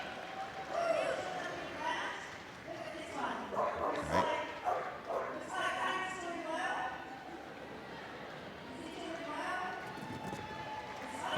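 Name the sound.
dogs barking at Crufts rescue dog agility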